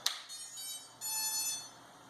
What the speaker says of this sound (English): how it sounds not only when you boot it up, but also when the flywheels spin